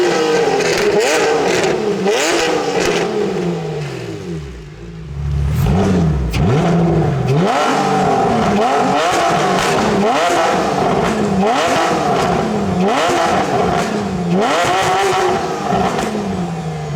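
A Porsche rally car with a 3.6-litre engine revs hard again and again, each rev rising and falling in sweeping bursts. It is loud and close, with a brief dip in the middle, and no one talks over it.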